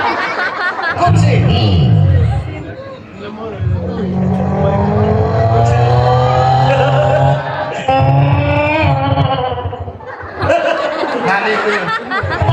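Beatboxing voice imitates a car, with engine-like rumble, revving whines and tire-squeal effects, loud and close, running continuously for several seconds with a short break near the end, amid laughter and chatter.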